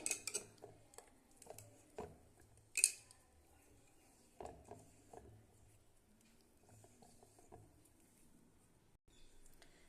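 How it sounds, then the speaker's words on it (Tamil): Wet, irregular squelching and clinking as black kavuni rice dosa batter is mixed by hand in a bowl, with scattered louder taps of utensils against dishes. "எல்லாம் நல்லா கலந்து விட்டுறலாம் கையிலேயே."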